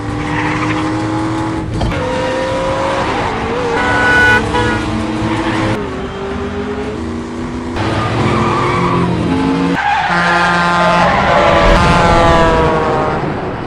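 Cars racing through a car chase in an action film, loud engines revving and shifting pitch with squealing tires and skids, continuous and close across the scene.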